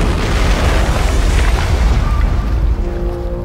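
A torpedo detonates against the wooden hull of the Housatonic, a long, loud, rumbling blast that fills the whole stretch and swells and rolls without clear separate hits before easing slightly at the end.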